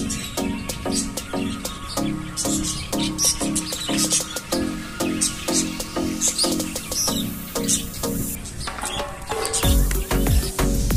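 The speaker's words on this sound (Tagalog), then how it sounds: "may ibon pa" Small birds chirp and tweet continuously in a rhythmic, repeating pattern at a cafe in Khobar, Saudi Arabia, fairly close and clear, with no talking over them.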